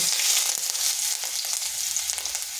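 Grated garlic fries in hot oil with whole cumin seeds, producing a continuous, close crackling sizzle with faint stirring and no speech.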